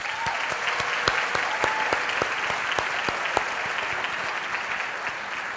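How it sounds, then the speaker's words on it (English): Steady applause from an audience at a 2020 scholarship pageant honouring donors, an even wash of many hands with a few sharper individual claps standing out, continuous throughout at moderate level. "please join me now in giving them a round of applause."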